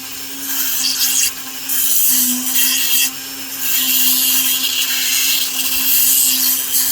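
Dremel rotary tool cutting a rough opal picture stone, a loud continuous high grinding whine with a steady motor hum that drops out briefly twice as the cut is eased off.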